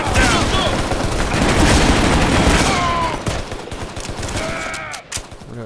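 Gunfire in the video game Shadow Ops: Red Mercury, a loud, dense fusillade of rapid shots and bursts that runs almost without a break, under faint game voices.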